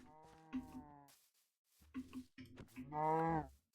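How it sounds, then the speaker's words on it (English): Cow in Minecraft Bedrock mooing in a few drawn-out, tonal calls, one at the start and a longer one near the end, moderately loud with quiet gaps between. "So I just saw the cow."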